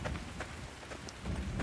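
Steady rain falls in the Life is Feudal medieval game world, a continuous hiss with low rumbling swells like distant thunder near the start and end, moderately loud with no voices.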